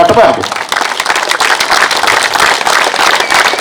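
An audience at a kabaddi event bursts into dense, loud, sustained clapping that fills the whole moment, with voices mixed into the crowd noise.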